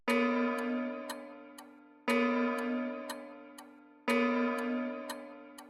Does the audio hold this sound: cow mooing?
no